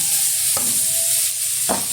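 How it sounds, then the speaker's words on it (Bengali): Grated cabbage frying in oil left from frying shrimp, a loud continuous hiss at close range with two sharp stirring knocks against the pan. "এখন এই মাছ ভাজার তেলেই দিয়ে দেবো গ্রেভ করে রাখা বাঁধাকপি"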